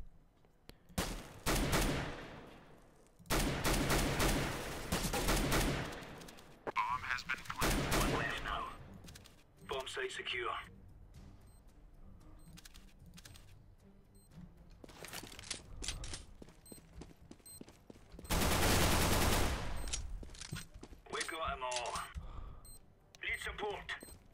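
Bursts of rifle and automatic gunfire ring out in Counter-Strike: Global Offensive, loud clusters of shots separated by quieter stretches, with a voice talking between and over the volleys.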